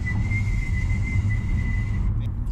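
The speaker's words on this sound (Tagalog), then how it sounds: "May naririnig akong sumisipol." A thin, steady high whistle rides over the low road rumble inside a 2024 GAC Empow (GB) at highway speed, holding for about two seconds before cutting out.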